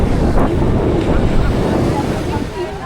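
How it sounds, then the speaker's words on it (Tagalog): Ocean waves wash onto a beach in Zambales, a loud, continuous surf rumble heavily buffeted by wind gusting across the microphone. "Wala, ang naririnig ko lang alon."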